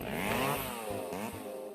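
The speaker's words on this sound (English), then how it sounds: "A chainsaw with around 100 decibels already reaches the upper stimulation range." A chainsaw runs loud and close, its engine note rising and falling through a couple of revs across the whole stretch, with no voices over it.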